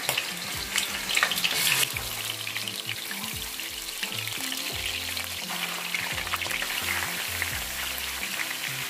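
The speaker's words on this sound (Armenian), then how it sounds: "Ձեթն ու կարագը լավ դաղվելուց հետո ավելացնում ենք հավի միսը, հարկավոր է կարմրացնել։" Chicken pieces fry in hot oil and butter with a steady close sizzle and crackle, alone and fairly quiet, with faint stirring and a tonal hum underneath.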